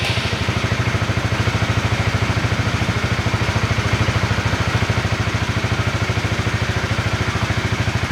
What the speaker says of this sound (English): light up the engine to see if everything's working well